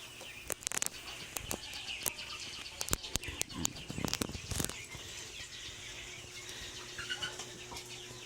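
Rhode Island chickens clucking and calling inside a chicken house, with scattered sharp bird calls and bursts over a low background hum, fairly faint and irregular, with a few loud knocks mixed in.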